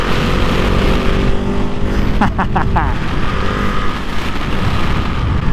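A KTM 690 SMCR supermotard motorcycle is ridden on the road, its engine droning steadily beneath heavy wind rush, with a few brief higher engine notes partway through.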